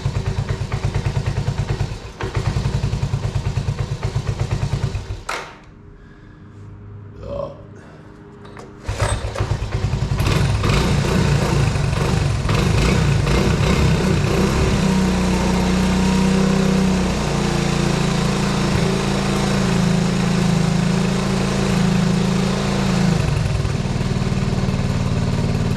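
A hard-starting 1984 Honda 125M three-wheeler engine runs loudly up close on slight choke, cuts out briefly, then restarts and settles into a steady, buzzing idle and revving.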